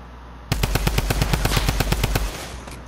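Rapid automatic gunfire in Fortnite, a fast burst of about fifteen sharp, evenly spaced shots lasting roughly two seconds, loud and close, followed by a short fading tail.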